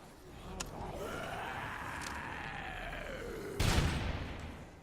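Video game gunfire in Dead Rising 3: a few sharp, separate shots over a rumbling, engine-like whoosh, with the loudest burst near the end.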